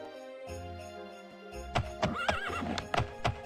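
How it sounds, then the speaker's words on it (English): Horse neighing and hoof clip-clops in an Elder Scrolls-style fantasy video game, a whinny rising over a steady ambient music bed, with repeated sharp hoof thuds through the second half. "I'm on a horse, okay?"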